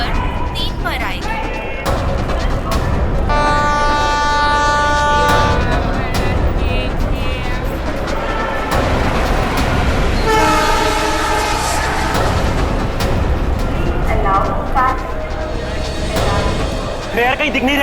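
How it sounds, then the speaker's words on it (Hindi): The Paschim Express from Mumbai to Delhi pulls into platform 3 at a busy railway station, its horn sounding repeatedly over steady rumbling and clatter, with people talking throughout. "मुंबई से दिल्ली जाने वाली पश्चिम एक्सप्रेस प्लेटफॉर्म नंबर 3 पर आएगी"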